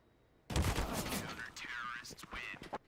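Rapid rifle fire from a hip-fired Krieg in a competitive shooter match comes in a sharp burst of shots, partly under a caster's voice.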